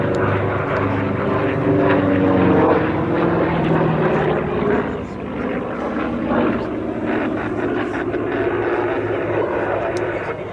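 Propeller engines of a P-51 Mustang and a P-47 Thunderbolt flying together in a paired air display drone loudly and continuously, a broad steady roar that dips slightly midway.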